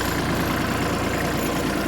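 A tractor engine idles nearby, a steady, loud low rumble that continues evenly throughout with no talking.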